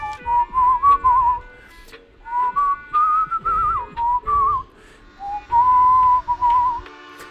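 Someone whistles a melody in several clear, sustained phrases separated by short pauses, rising and falling in pitch, close and fairly loud over faint background noise.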